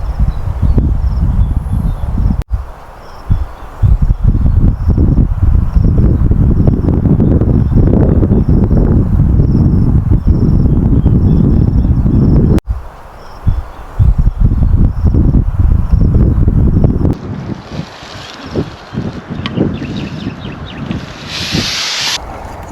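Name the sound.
wind blowing outdoors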